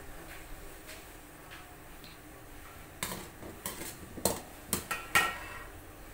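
A cooking pot of simmering vegetables is covered with its lid, heard as a quiet run of clanks and metallic taps near the end against low kitchen background.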